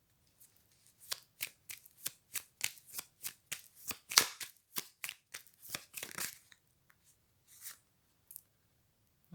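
Tarot cards shuffled and flipped in a quick run of about twenty crisp, close riffling snaps and flicks, thinning out into a few scattered slaps toward the end, with no talking.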